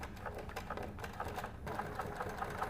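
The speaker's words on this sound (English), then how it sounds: "I am just gonna go ahead and stitch right along that" A sewing machine stitching steadily, with a fast, even mechanical whir and needle chatter that runs continuously and close, pausing briefly before resuming, with no voices.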